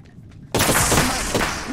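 Sudden loud burst of automatic gunfire in Apex Legends after a quiet lead-in, sustained rapid shots with a crunchy, bright impact continuing to the end.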